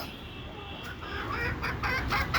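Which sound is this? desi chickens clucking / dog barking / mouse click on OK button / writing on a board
desi chickens clucking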